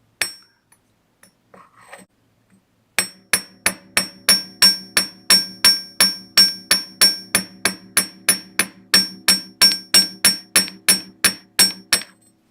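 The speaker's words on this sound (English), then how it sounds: "Make sure that you don't hammer anything else that you don't want." A small hammer strikes wire while flattening a handmade wire-only earring, about thirty close, sharp, even taps in a fast steady rhythm after a few quiet handling sounds.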